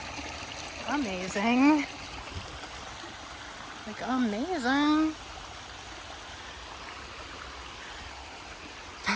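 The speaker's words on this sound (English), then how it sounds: "There's another waterfall up there." A stream and waterfall on a nature hike at Great Hills Park in Austin, Texas, a steady rushing wash of water throughout while a person talks over it in two short bursts.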